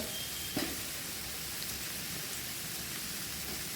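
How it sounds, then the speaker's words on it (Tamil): Pallipalayam chicken sautéing in a pan, a steady, fairly faint sizzle like light rain that holds even throughout, with one small pop near the start. "அவ்வளோதான், நல்லா வதக்கிக்கோங்க."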